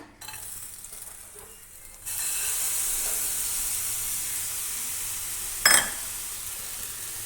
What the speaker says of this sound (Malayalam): നമ്മളിത് ഒട്ടും എണ്ണ ചേർക്കാണ്ടാണ് റോസ്റ്റ് ചെയ്തെടുക്കുന്നത്